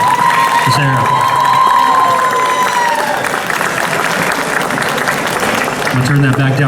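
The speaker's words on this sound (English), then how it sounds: "let's give a round of applause to Sarah." A convention crowd at a cosplay contest in Peoria breaks into loud applause and cheering, with whoops and shouts rising over continuous clapping and a faint tonal ring from the sound system early on.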